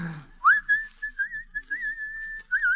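A person whistles a wavering melodic line in an old film scene, clear and fairly close, with a brief sliding rise into a long held, gently warbling tone and a short flourish at the end.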